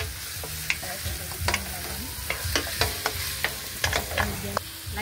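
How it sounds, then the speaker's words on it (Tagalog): Adobong kangkong with spare ribs frying in a pan while being stirred: a steady sizzle broken by sharp scrapes and clacks of a utensil against the pan, close and irregular. "Haluin na po natin."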